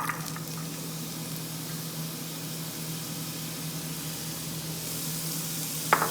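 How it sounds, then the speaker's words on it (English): Vegetables sizzling in hot oil in a sauté pan, a steady close crackling hiss that holds evenly throughout, with a brief louder clatter near the end. "Can you hear that sizzle?"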